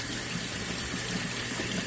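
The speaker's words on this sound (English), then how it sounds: "So just rinse it with some cool water." Rice is rinsed in a strainer under a running tap of cool water, giving a steady close hiss and splash of flowing water with no voices.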